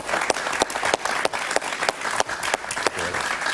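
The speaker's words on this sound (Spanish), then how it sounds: "Otto Reich, un aplauso para él, por favor." Applause from a group, with several sharp individual claps standing out above the steady patter.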